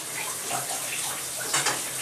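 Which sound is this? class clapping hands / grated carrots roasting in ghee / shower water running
shower water running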